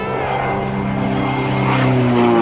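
SIAI-Marchetti SF.260 propeller aircraft diving past at an airshow, a loud steady drone with rising engine pitch as it sweeps close overhead.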